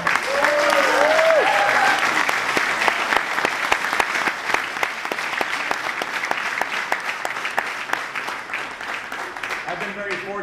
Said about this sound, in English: I'd like you to applaud all of our farm workers who are here and their families.